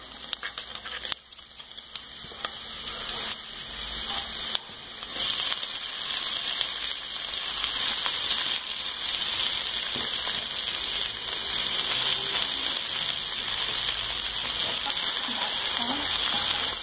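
Chopped taioba leaves hit hot oil with garlic and onion and fry with a steady, dense sizzle that jumps louder partway through, then crackles evenly and close with no talking.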